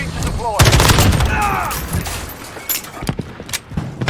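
An FN SCAR 17 assault rifle fires in Call of Duty, with loud sharp bursts up close mixed with quick single shots and mechanical clatter, and a voice speaks briefly over the gunfire.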